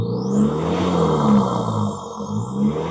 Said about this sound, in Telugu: ఈ వరల్డ్ ఏమైనా సెక్సియస్ట్ సౌండ్ ఉంది అంటే అది డీజిల్ ఇంజన్ సౌండే.